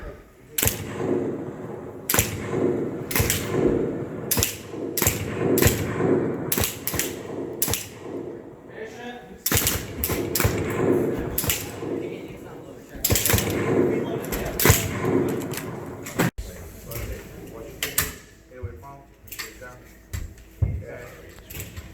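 Rifles fire in sharp, loud, repeated cracks on a firing range during field training, shots coming in uneven bursts across the stretch with people talking between them.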